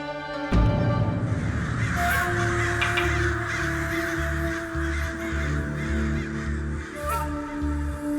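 Crows caw loudly and repeatedly, with a sustained musical drone underneath throughout.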